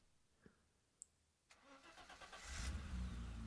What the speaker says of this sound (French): Ils montèrent dans plusieurs voitures.